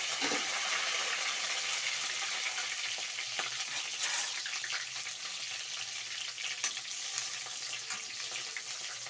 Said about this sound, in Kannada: ಹಸಿಮೆಣಸಿನಕಾಯಿ ಹಾಕೊಳ್ಳಿ. ಕರಿಬೇವು,